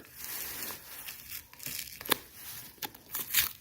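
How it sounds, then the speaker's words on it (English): Tape peeled off the rubber windshield gasket of a 1985 Mercedes 300TD, heard as close crackling tears with a few sharper rips toward the end. "Now we can go ahead and peel that off."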